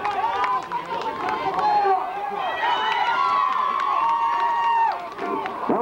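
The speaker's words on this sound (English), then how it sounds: "Come on, a lot of noise, folks. A lot of noise. Keep on clapping." Crowd noise at a high school football game between Freeport and Oceanside, a dense stadium roar with cheering and shouts rising and falling throughout, while an announcer talks over it.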